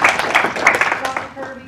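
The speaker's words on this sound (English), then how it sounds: "Let's give them another round of applause." An audience claps at a school board meeting for student speakers, a brief round of dense applause that tapers off toward the end.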